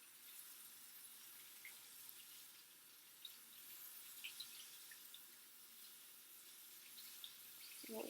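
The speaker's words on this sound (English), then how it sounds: "I turned on the cold water with my elbow, keeping my hands clean" Cold water runs steadily from a lab sink tap during handwashing, a faint, continuous hiss and splash with a few small knocks and a louder clunk at the end.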